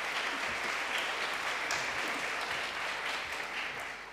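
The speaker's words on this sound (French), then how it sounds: "Merci, on l'applaudit." An audience at an energy-transition awards ceremony applauds in a full, even round of clapping that holds steady and softens slightly at the close.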